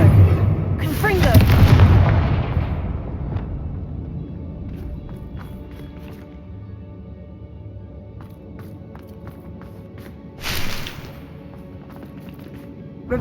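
Blasts from the Confringo fire spell in the Hogwarts Legacy video game: a loud booming burst near the start, then a quieter stretch with small crackles, and a second sharp blast around the ten-second mark, with voices present in the background.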